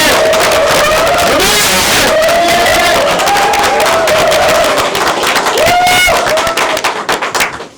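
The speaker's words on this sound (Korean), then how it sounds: "박수로 시작합니다." Audience at an Incheon political party candidates' joint debate breaks into sustained loud applause with scattered cheers and whoops, holding steady for several seconds before thinning out at the end.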